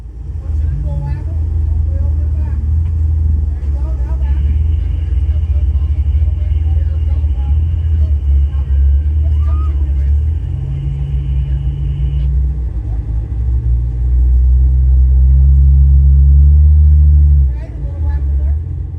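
An off-road vehicle creeps over rocks in Pritchett Canyon, its engine rumbling low and loud with rising and falling revs as it inches along, while a person talks over it.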